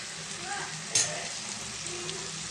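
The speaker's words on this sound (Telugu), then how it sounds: "ఒక 2 సెకండ్స్ పచ్చివాసన పోయేదాకా ఫ్రై చేసుకుందామండి" Onion, ginger and garlic paste fries in a pan with a soft, continuous sizzle close by, with one brief louder crackle partway through and a faint voice in the background.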